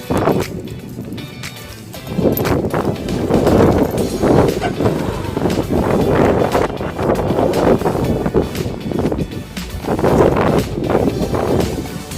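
Strong wind roars and buffets steadily across the whole stretch at the Intang Lake viewdeck, Pantabangan Dam, Nueva Ecija, rising in gusts, with a faint murmur of voices underneath.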